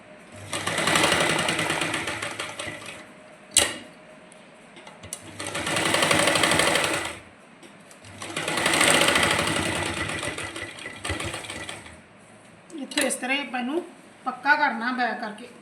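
A sewing machine stitching lace onto a salwar runs in three loud, steady bursts separated by pauses, followed by someone talking near the end.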